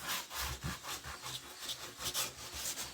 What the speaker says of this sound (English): I'm going to turn it this way so I can see it with my rough gator sander.